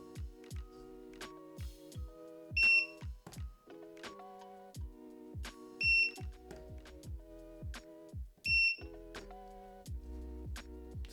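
A battery welder beeps loudly again and again while an 18650 cell pack is built, giving sharp, fairly regular electronic tones with clicks between them and no speech.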